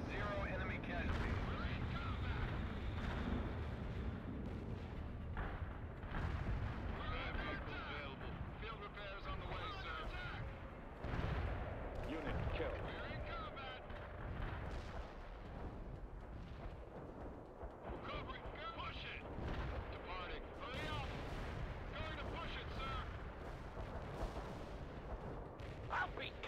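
Heavy artillery and mortar fire in the World in Conflict strategy game, with continuous booming blasts and rumbling explosions sustained over a dense battle din, and voices talking over it.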